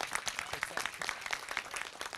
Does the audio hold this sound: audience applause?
yes